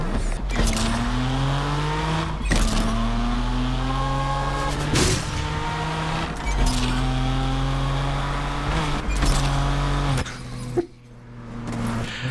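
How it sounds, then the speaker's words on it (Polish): A BMW M2 engine in Need for Speed Unbound revs up through the gears, each climb in pitch cut by an abrupt shift, with several shifts in a row and a brief drop near the end, loud and close with no talk. "Podczas zmiany biegów słychać, nie? Że coś się tam dziwnego dzieje."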